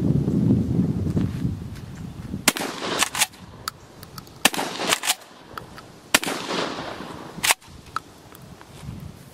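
A 12 gauge shotgun fires several sharp, loud reports at irregular intervals, each a sudden crack with a short tail, loading a slug-and-buckshot combination round, with quieter handling and movement noises between shots.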